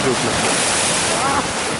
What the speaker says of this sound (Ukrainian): Море у нас сьогодні неспокійне